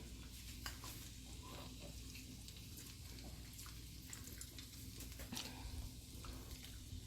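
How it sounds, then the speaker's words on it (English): An egg drops into a pot of Jamaican-style shrimp and chicken fried rice with vegetables and starts to fry, giving a faint, steady sizzle with light stirring scrapes and no talking. "Okay, so I'm adding my egg now."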